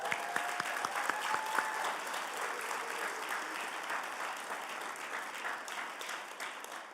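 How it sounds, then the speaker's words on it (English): A crowd applauds the workers at a justice gala, a continuous, fairly quiet patter of many hands clapping with a few sharper claps near the start, fading slightly toward the end. "An applause for our workers."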